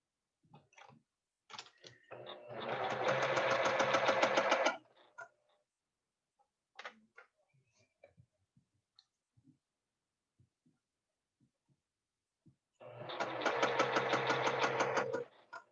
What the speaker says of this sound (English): I always feel like it can't be very fun for you guys to sit there and watch me sew